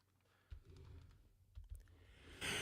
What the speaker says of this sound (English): This is my Logitech keyboard.